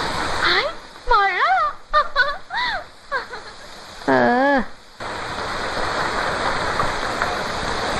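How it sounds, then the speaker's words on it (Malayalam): Steady rain falls, hissing under a few short spoken exclamations in the first half, then pouring on alone as an even, continuous wash of noise. "ഹായ്, മഴ."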